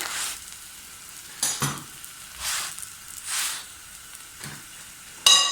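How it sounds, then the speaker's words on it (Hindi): A frozen cheesy paratha fries in a pan straight from the freezer, giving a soft continuous sizzle broken by several louder bursts of hissing and stirring, then a sharp clatter at the very end. "हम फ्रीज़र में से निकाल के फ़ौरन हाथ के हाथ ही इसी तरह फ्राई कर सकते हैं"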